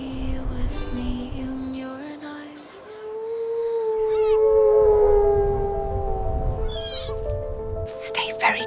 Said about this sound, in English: That's a wolf.